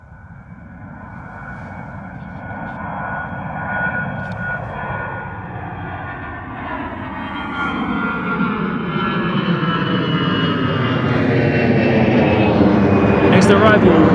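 An EasyJet A320 jet airliner climbs away after takeoff at London Gatwick, its engine roar building steadily from a rumble to a loud, broad howl with a slowly shifting pitch, with a voice talking over it.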